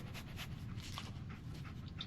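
A dog in the Fallout video game pants steadily and sniffs over a continuous low ambient game background, close and moderately loud, with no talk.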